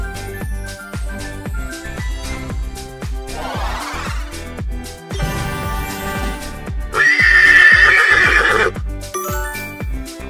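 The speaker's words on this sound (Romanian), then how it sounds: "Este un cal." A horse neighs and whinnies loudly amid clip-clop hoof beats and layered background sounds, with a strong drawn-out whinny in the later part.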